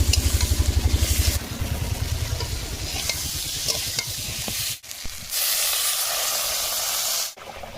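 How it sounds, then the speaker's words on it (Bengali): Onion, garlic and chili frying in a generous amount of oil, a loud hissing sizzle close by with rhythmic stirring scrapes at first, then a dense steady crackle. "তেল দিয়েছি পেঁয়াজ রসুন লঙ্কা দিয়ে দিয়েছি এটা দেখো জ্বলছে কেমন"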